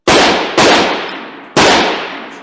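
A rifle is test-fired in a factory test tunnel, three sharp loud shots, two quickly together then a third after a pause, each with a long reverberant tail.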